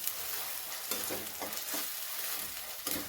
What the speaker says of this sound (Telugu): అల్లం వెల్లుల్లి పేస్ట్ పచ్చివాసన పోయేంత వరకు మంచిగా ఫ్రై చేసుకోవాలి.